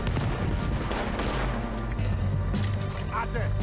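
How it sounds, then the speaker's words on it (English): Gunfire in the video game Red Dead Redemption 2, with repeated shots and bursts in a dense, loud battle mix, under steady voices and game chatter throughout. "He's shooting!"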